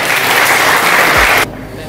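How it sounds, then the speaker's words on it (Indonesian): Audience applause for Gojek at an Indonesian startup event, a steady loud wash of clapping that cuts off sharply near the end. "Tepuk tangan untuk Gojek."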